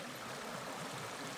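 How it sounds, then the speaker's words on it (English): River water rushes out with a strong tidal current on the Bass River on Cape Cod, a steady broadband wash of flowing water, continuous and moderately faint, with no talk. "So the water's rushing out here now."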